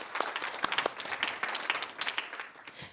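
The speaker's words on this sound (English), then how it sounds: "A big applause to them." Conference audience at a rural pact meeting in Uppsala, Sweden, applauding a group, a sustained patter of many hands clapping, fairly faint and somewhat distant.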